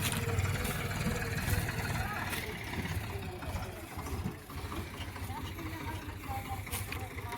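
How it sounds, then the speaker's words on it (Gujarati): A loaded tractor hauling a full trailer of cut sugarcane from a fodder centre pulls away, its engine a steady mid-level drone with broadband rumble and clatter. "ટ્રેક્ટર ભરાઈ ગયું અને જાય છે ઘેરે"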